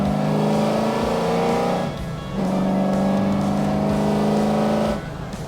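BMW 330i on a race track at full throttle: a loud, close engine climbs steadily in pitch through a gear, dips briefly at a shift, then pulls hard again before backing off.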